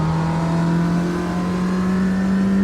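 Ginetta G40 race car engine in Automobilista 2, a steady sustained drone held at a fairly constant pitch throughout, loud and close with no talk over it.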